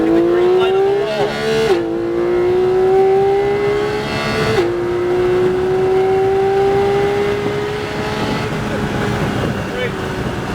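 A Porsche 718 GT4 accelerating through curves on a track, its engine note climbing steadily with brief dips at gear changes, loud and continuous with wind and road noise.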